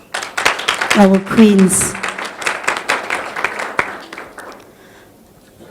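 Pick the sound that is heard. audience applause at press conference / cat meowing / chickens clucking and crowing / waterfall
audience applause at press conference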